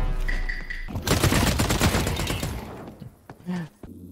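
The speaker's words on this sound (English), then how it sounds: "Wait, I heard a gun." Gunfire in The Cycle: Frontier: a loud, rapid burst of automatic shots crackles for about a second and a half, then trails off into scattered sounds, with little talk.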